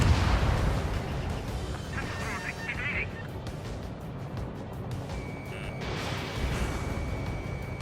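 In the Ace Combat 7 flight game, aircraft guns fire at a radar vehicle, a dense rumbling burst of cannon fire under the roar of the jet, with radio voices talking over the action.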